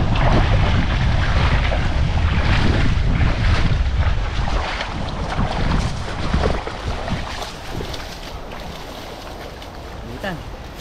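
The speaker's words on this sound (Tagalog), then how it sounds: "Hindi na maramdam yung init, mahangin eh." Strong wind buffets the microphone in heavy gusts that ease off over time near a river bridge, with voices heard faintly underneath the blustery roar.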